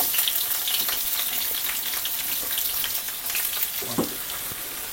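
Onions frying in a pan for a bachelor-style egg curry, a steady close hiss with small crackles and a brief clunk toward the end, no talking.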